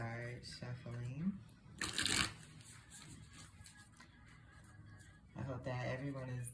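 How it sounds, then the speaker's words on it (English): A Melanated Classic Tarot deck is shuffled in a short, crisp riffle of flicking cards near the microphone, with someone talking before and after it. "I'll go ahead and start shuffling."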